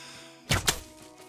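Bow shot striking an animal while hunting in the video game Call of the Wild, heard as two close, sharp thuds in quick succession over quiet ambience.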